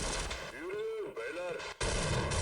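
Gunfire in the game Half-Life booms loudly and repeatedly, mixed with voices and electronic tones.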